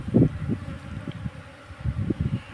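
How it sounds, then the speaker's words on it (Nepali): Honeybees swarming into a hive box on a beekeeping farm, a low buzzing hum rising and falling in soft clustered pulses, fairly close, with no talk. "अब मौरी चाहिँ सर्लक्क आउने क्रम जारी छ।"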